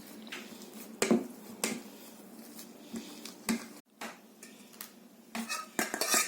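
Pani puri filling mashed in a bowl, with repeated close clinks and scrapes of a utensil against the bowl in an uneven rhythm, alone and fairly quiet.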